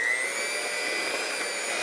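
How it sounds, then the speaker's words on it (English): An electric mixer whisks cream cheese and powdered sugar together, giving a steady, loud, unbroken motor whir that holds even for about two seconds, with no talking. "using an electric mixer,"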